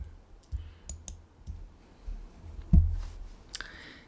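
Sharp, separate clicks from a computer keyboard and mouse, pressed with the Ctrl key held down, come at an uneven pace, close and fairly quiet, with one louder thump near the end.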